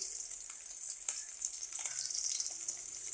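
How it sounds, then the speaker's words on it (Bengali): Koi fish fry in hot oil with a bright, continuous sizzle that stays steady and close, with small crackles and spits scattered throughout. "মাছগুলি আমি ভাজা বসিয়ে দিয়েছি"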